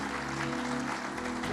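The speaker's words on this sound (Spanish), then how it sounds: "Dale un aplauso al Señor por eso." A church congregation claps during a worship service, a brief, dense burst of applause that carries on steadily.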